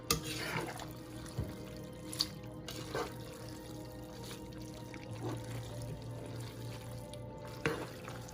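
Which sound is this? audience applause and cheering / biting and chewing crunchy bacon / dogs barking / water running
water running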